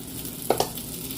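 A Jaffna-style prawn, dried fish and brinjal curry is stirred in the pot right after chili powder goes in. Two quick, close spoon scrapes sound over a soft, steady sizzle, with no talking.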